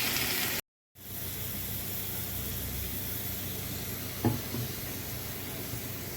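Oil sizzling in a pan while cooking potol and prawn korma, a continuous broad hiss broken by a brief moment of silence near the start, with a small knock partway through.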